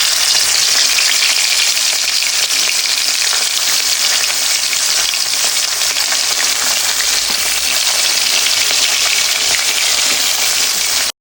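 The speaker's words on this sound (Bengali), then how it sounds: "মাছটাকে আগে আমি ভেজে নিব" Fresh pond-caught puti fish frying in hot oil, a loud, dense, steady sizzle crackling without pause from start to finish.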